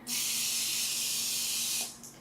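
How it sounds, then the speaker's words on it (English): A single close, steady hiss of a cooking oil spray can lasting about two seconds, then cutting off. "Put on some oil. Spray it on."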